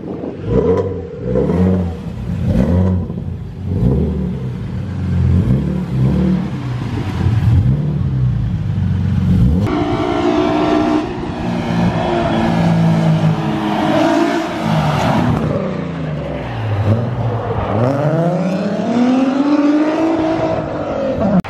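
Car engine revving repeatedly as it is driven onto the block in a shop, close and loud, with rising and falling bursts of throttle and a strong climbing rev near the end.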